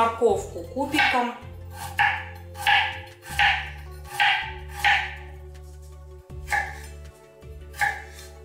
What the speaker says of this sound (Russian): Лучше вот нарезать кубиками.